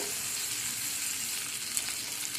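Tomatoes, green chillies and ginger fry in melted butter, giving a steady, close, moderately loud sizzle with a constant crackling hiss and no talking.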